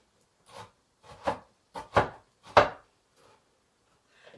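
A kitchen knife chops through partly thawed frozen food on a cutting board, five distinct crunchy strokes at about half-second intervals, close and clear with silence between.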